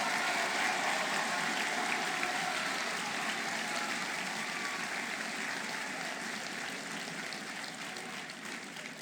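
Large convention audience at a state FFA session applauding agriculture teachers, sustained broad clapping that fills the hall and slowly fades toward the end.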